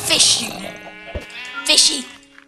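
Sheep in the Minecraft video game bleat twice, a near, wavering cry at the start and another near the end, with a brief thump between them and a person talking over them.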